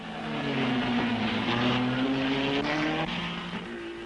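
A Cooper racing car at the Spa-Francorchamps Belgian Grand Prix, its engine note rising and falling in a loud, sustained drone as it passes close by, with the pitch gliding steadily across several seconds.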